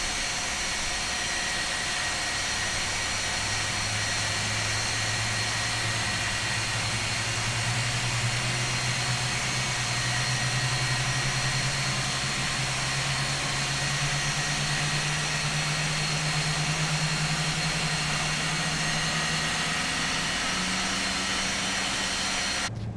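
Boeing 747-8F jet engines spool up in the MSFS2020 flight simulator, a loud steady roar with a rising low whine that climbs slowly and evenly. No voices are heard.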